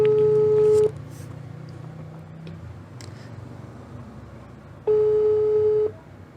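An outgoing phone call rings unanswered, with two long, loud electronic ring tones separated by a few seconds of quiet hiss.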